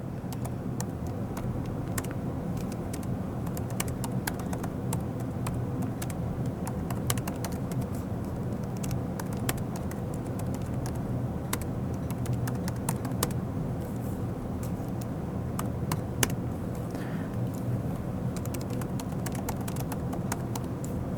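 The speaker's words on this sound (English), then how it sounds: "Let's get some of those sexy typing noises." Steady clatter of keys on a computer keyboard, continuous fast typing for about twenty seconds, close and fairly quiet, with a faint background hum.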